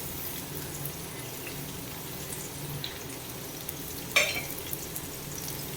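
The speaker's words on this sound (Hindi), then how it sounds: "तेल गरम हो गया," A steady, quiet sizzle of onions frying in hot oil in a kadai, with a soft clink of a utensil partway through.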